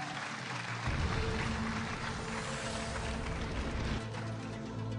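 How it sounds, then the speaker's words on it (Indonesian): An audience at an Indonesian stand-up comedy competition show claps for the remaining eight comedians, a dense wash of applause swelling in after a second and holding steady for about three seconds before fading. "Boleh minta tepuk tangan untuk 8 komika yang tersisa?"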